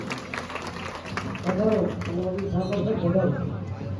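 Applause from an audience at a gathering honouring someone, a steady wash of clapping carried under speech and crowd chatter for about four seconds, with singing or talking voices prominent in the middle.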